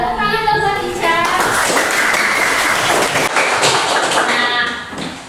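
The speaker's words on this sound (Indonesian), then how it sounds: "tepuk tangan dong buat Ica." A classroom of students claps for a classmate after her presentation on prayer, a dense patter of hands lasting several seconds, with brief voices at the start and as it fades.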